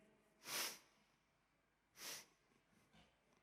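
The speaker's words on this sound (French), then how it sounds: "Renifle un petit coup." Two sharp nasal sniffs about a second and a half apart, with a fainter third one after, close up against quiet background.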